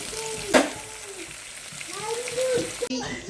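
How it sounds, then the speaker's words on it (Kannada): Onions and potatoes fry in a pan with a steady sizzle, a sharp clatter of stirring near the start and soft scraping later, while a voice speaks in the background. "ಉಳ್ಳಾಗಡ್ಡಿ ಮತ್ತು ಆಲೂಗಡ್ಡೆ ಒಂದು ಸ್ವಲ್ಪ ಫ್ರೈ ಇದೆ"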